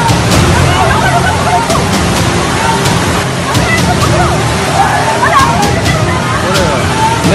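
Heavy floodwater after torrential rain rushes in a loud, constant roar and slosh, with a crowd of voices mixed into the steady noise.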